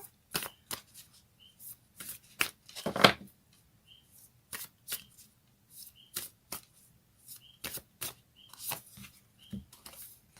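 Moonology oracle cards being shuffled by hand during a reading, a steady run of crisp, papery riffles and snaps at close range, with quiet pauses between bursts and no talking.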